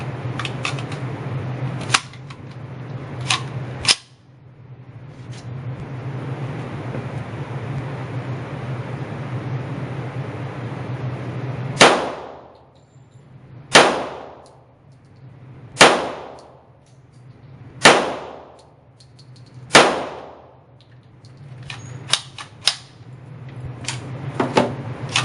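A VMAC45 .45 ACP MAC-10 style pistol fires five sharp, loud single shots at a target, evenly spaced about two seconds apart, following a stretch of outdoor noise.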